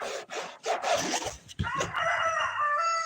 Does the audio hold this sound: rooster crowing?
yes